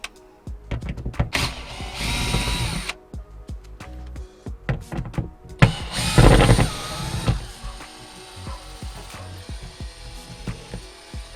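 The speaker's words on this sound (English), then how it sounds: "Let's get these screws out." Screws being backed out of a solar-powered van light fixture with a ratcheting driver, bursts of whirring and clicking ratchet sounds separated by pauses and small handling clunks, close and fairly quiet.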